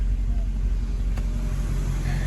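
A car engine idling with its hood open during an oil catch can check, a steady low rumble that stays even and close for a couple of seconds with no revving.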